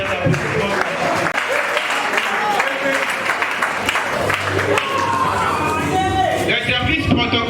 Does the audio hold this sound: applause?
yes